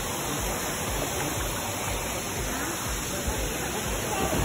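Steady rush of a waterfall and flowing stream on a South Carolina hiking trail, a dense continuous roar of water filling the scene close by with no break.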